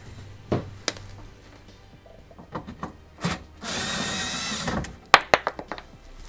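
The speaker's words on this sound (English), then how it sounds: "you just loosen those bolts off and pop them off" Allen key working loose the bolts on a Porsche bumperette, with scattered metallic clicks and scrapes, a sustained rasping stretch in the middle, then a quick burst of sharp taps near the end, close and moderately loud.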